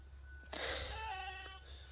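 A grazing sheep gives a single wavering bleat, fairly close but modest in level, over quiet outdoor background.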